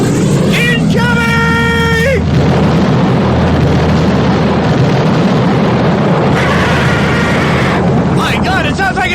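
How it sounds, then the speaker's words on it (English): Artillery barrage sound effect: a shrill incoming-shell whistle sweeps in, then dense, continuous rumbling blasts roar loudly for several seconds before more whistles fly in near the end. "My God, it sounds like it's an artillery barrage!"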